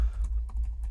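A short burst of quick keystrokes on a computer keyboard, several light clicks in fast, slightly uneven rhythm, close and clear with no talking.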